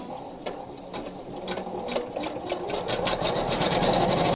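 An embroidery sewing machine stitches an outline on felt, its needle tapping in a quick, regular rhythm that speeds up and grows louder toward the end, close and alone.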